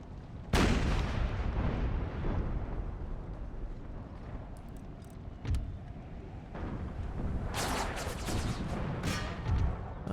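Cannon artillery in Empire: Total War roars across the battlefield, a sharp close blast followed by sustained rumbling gunfire, with further heavy booms and crackling volleys rising toward the end.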